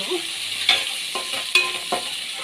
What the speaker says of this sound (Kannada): ಚಟಪಟ ಚಟಪಟ ಹೇಳಿ ಸೌಂಡ್ ಬರ್ತಾ ಇದೆ ಬೆಳ್ಳುಳ್ಳಿ